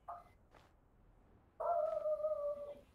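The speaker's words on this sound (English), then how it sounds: "I hear your dog." A dog howls in the background, starting with a few faint whimpers, then one long, sustained howl that rises louder and slowly fades, heard alone with no talk.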